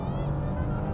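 Engine of a 2022 Bentley Flying Spur Hybrid, heard as a short, steady, low drone with a faint higher whine above it and no voices.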